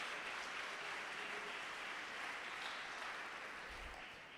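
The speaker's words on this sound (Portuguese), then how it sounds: "se for para aplaudir Jesus, aplaude com força." A church congregation applauds loudly and steadily, a dense wash of clapping that fills the space for several seconds without pause and tapers slightly at the end.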